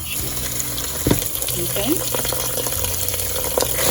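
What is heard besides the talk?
washing two cups of rice under running water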